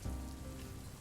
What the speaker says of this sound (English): I don't have like the actual rain coming down, but I do have the window rain effect